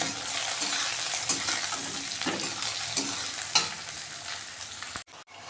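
Chopped tomatoes and onions fry in a hot pan for a mutton dish. A continuous close sizzle is broken by several stirring strokes, then cuts off abruptly near the end.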